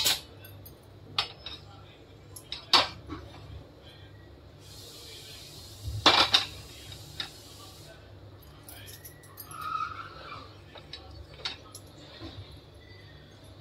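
A kadhai is handled while cooking soybean bhaji, giving scattered metallic clinks and knocks of utensils against the pan, with a brief hiss and quiet gaps between the sounds.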